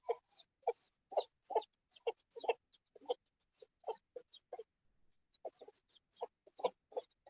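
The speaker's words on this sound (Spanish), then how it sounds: "Son bonitos los pollitos chiquitos." Small chicks peeping and clucking in a rapid series of close, bright calls, with a brief pause midway before the chirping resumes.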